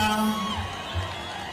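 A crowd cheering and ululating, with high trilling whoops and shouts blending into a loud, continuous roar.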